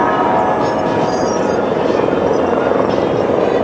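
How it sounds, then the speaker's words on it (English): A helicopter flies over the Las Vegas Strip at night, a steady, loud, unbroken drone of rotor and engine noise mixed with the broad roar of the city. "A helicopter flying over too."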